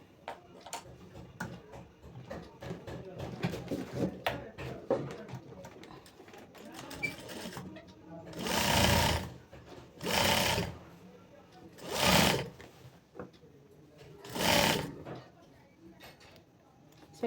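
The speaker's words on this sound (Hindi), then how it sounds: "इस तरह से अटैच करके हमको सिलाई लगा लेना" Sewing machine running in four distinct bursts, stitching the neckline of a kurti cut from a saree, with someone talking steadily beforehand and between the loud, close runs.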